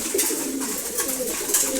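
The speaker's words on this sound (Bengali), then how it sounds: "এরা হচ্ছে সিলভার গোড়া কবুতর জোড়া খাবার খাইতেছে" A pair of silver pigeons feeding in the morning coo softly and continuously, close up, with low throaty murmurs repeating throughout.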